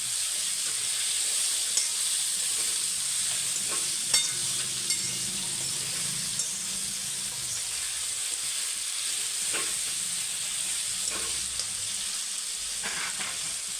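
Chibhda vegetable curry sizzles and hisses steadily in a hot pan, with soft scraping clinks as it is stirred now and then, close and continuous, and no one talking.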